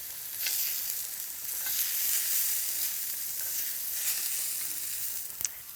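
Zucchini and lamb sizzle on a char grill, a steady bright hiss with a few faint crackles and one sharp pop near the end, close and continuous without talk.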